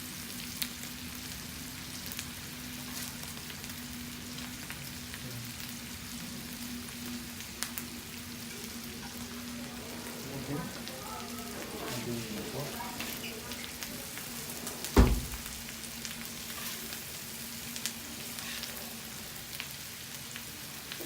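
Sausage frying on a grill for Tijuana tacos makes a soft, continuous sizzle like light rain, with a low hum beneath, scattered small ticks and one sharp knock near the end.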